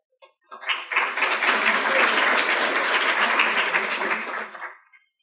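Audience applause at a university lecture, rising quickly from silence into a full, even wash of clapping that holds for about four seconds before tapering off and stopping.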